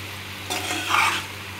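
Boiled macaroni being stirred with sausage masala in a pan, a short scraping stir with faint sizzle rising midway through the brief clip, close and moderately quiet.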